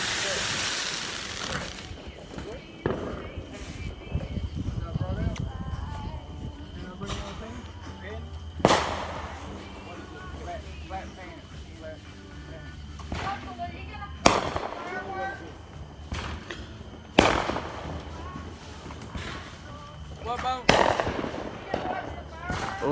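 Fourth of July fireworks and firecrackers going off outdoors, a series of sharp loud bangs and crackles at irregular intervals over a crackling, fizzing background, with people talking in between.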